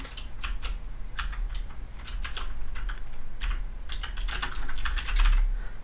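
Fingers rattle across a computer keyboard while entering text in SolidWorks CAD software, with irregular bursts of crisp, close keystrokes and brief pauses, alone with no talking.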